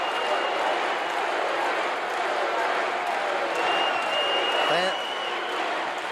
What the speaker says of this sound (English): Fans are roaring for Duggan.